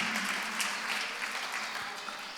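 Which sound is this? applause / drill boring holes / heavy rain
applause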